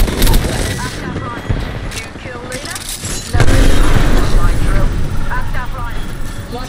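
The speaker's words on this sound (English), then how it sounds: "Seconds before the explosion." In the video game Apex Legends, an explosion lands as a sudden heavy boom partway through dense battle noise of gunfire and effects, with a character's voice talking over the chaos.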